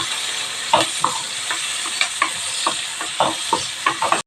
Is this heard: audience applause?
no